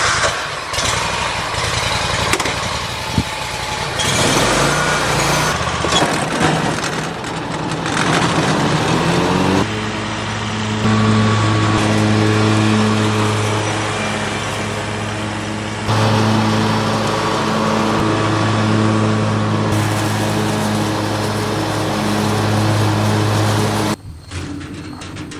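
Lawn mower (a Cub) mowing in the evening, its engine droning steadily and loudly, pitch shifting as it works under load, then cutting off near the end.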